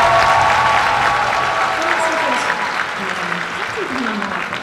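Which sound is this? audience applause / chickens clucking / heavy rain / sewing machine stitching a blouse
audience applause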